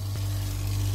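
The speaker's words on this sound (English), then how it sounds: "Pump down there, as you can probably hear, making one hell of a racket." An Oase pond pump sucking in air drones with a low, constant hum while air gurgles and sputters through it in a harsh, continuous hiss.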